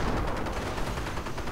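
Heavy .50 caliber machine gun fire in a WWII strategy video game, a dense, continuous rattle of gunfire mixed with other shots, loud and unbroken throughout.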